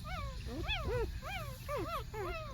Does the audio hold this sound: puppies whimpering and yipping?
yes